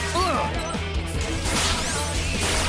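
A black hole attack chained into a falling combo in The World Ends With You: Final Remix, heavy crashing impacts and swooshing effects layered over game music, loud and continuous throughout.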